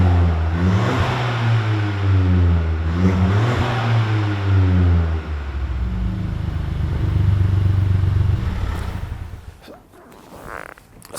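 Ford Fiesta ST engine revving loudly up and down in a studio, several strong rising and falling revs over a steady idle, then settling back toward a quieter idle near the end.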